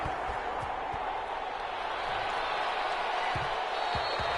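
A stadium crowd in a Madden football game, 49ers against Saints, keeps up a steady dense roar of cheering with scattered thuds and claps rising through it, while a commentator talks.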